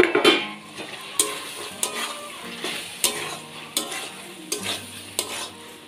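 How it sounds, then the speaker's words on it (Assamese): Rajma kidney beans frying with whole spices in a pan, a steady sizzle broken by repeated scraping stirs of a spoon against the metal, close and fairly loud, with no voices. "গোটেখিনি মশলার লগত অল্প ভাজি লম"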